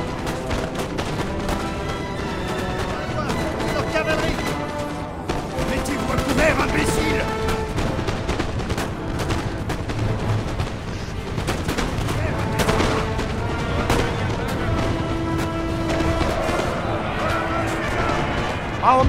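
Rifle volleys crackle in Napoleon: Total War, dense repeated gunshots scattered across a battlefield, some near and sharp, others distant, over game music and occasional voices.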